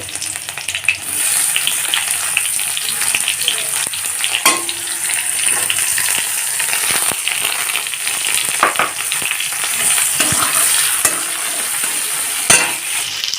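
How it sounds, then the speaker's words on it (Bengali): Sliced onions fry in a pan as the base for masoor dal. A loud, continuous sizzle carries scattered scraping and stirring clicks throughout, with no talking. "পেঁয়াজগুলোকে লাল করে ভেজে নেব"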